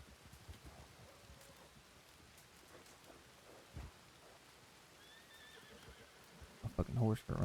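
A horse whinnies near the end in a video game, over rain and low rumbling; before that, quiet ambience with a few scattered thumps.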